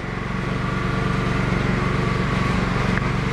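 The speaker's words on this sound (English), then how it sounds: "so this is a 21 inch belt sander" A 21-inch belt sander with a 120-grit belt runs continuously nearby, giving a loud, steady motor drone with a fast, even pulsing rhythm.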